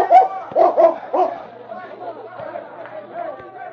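A large tracking dog barks in short bursts amid a busy waterfront crowd near the docks, with several loud barks up front giving way to murmuring chatter and voices in the background.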